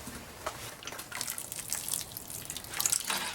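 Water is poured onto a potted tarragon plant, a steady close splashing and trickling stream that keeps going for a few seconds with no talking.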